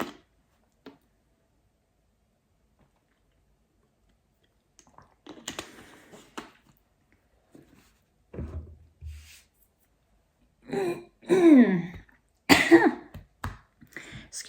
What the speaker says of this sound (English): Clear my throat, get that out of the way before we begin